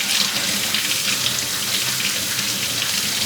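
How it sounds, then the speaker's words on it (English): Kitchen tap running steadily while fresh thyme and basil are washed under it, a continuous close hissing splash of water with no talk. "just washing my thyme"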